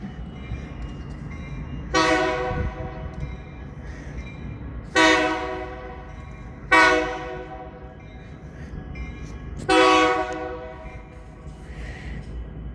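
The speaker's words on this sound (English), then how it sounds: "there goes the train" A train passes and sounds its horn in four long, loud blasts spread over several seconds, each rich and harmonic and fading out, with a low rumble of the train underneath.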